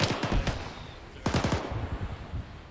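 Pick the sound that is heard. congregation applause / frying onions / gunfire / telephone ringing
gunfire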